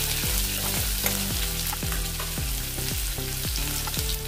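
Garlic, ginger and cumin fry in a hot pan for a cabbage dal sabji, a steady close sizzle with repeated scraping stirs at a regular rhythm and no talking.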